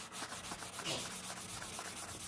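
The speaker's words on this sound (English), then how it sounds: "there's somebody scraping up that blade. Sharpening that blade up." Blade scraped back and forth to sharpen it, a faint rhythmic rasping of quick regular strokes with no voices.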